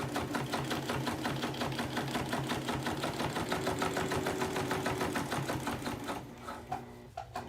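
A sewing machine topstitching across a fabric bag, running in a fast, steady rhythmic whir and clatter close by, then slowing and stopping near the end.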